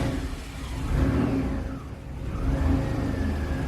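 A GM 3.8 3800 V6 with a no-idle fault and a mass airflow code, running close by as the throttle is blipped, rising and falling in two revving swells.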